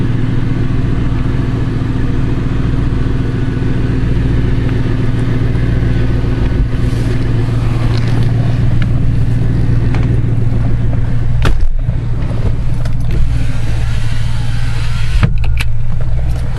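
A 1999 Lincoln Town Car with a loud stock exhaust idles with a deep, steady rumble close by, with a few brief blips partway through and no talk.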